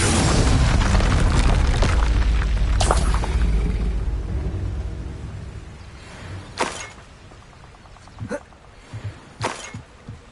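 Fiery Confringo spell explosion in the Hogwarts Legacy video game: a heavy boom with a long rumbling tail fading over several seconds, followed by sharper scattered pops and bursts.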